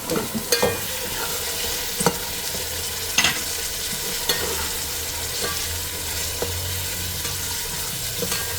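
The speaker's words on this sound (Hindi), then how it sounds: "इनको हम 5 मिनट तक ना अच्छी तरह भून लेंगे, थोड़े से मटर भी गल जाए और मसाला भी थोड़ा सा भुना जाए।" Peas masala with green chillies fries in oil, a dense continuous sizzle and hiss with a spoon stirring and scraping the pan, sharp clicks landing every second or so throughout, close and fairly loud.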